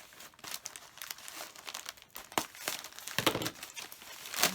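A Creative Notions plastic bag being cut open with scissors and unwrapped: close, irregular crinkling and crackling of plastic in quick bursts, with sharper rustles near the middle and end.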